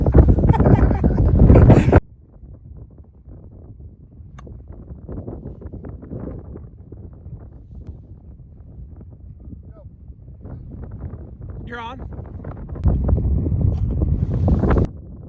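Strong gusting wind over a golf course during a two-man scramble, a loud, rough roar buffeting the microphone at the start and end, with steadier, quieter blowing in between.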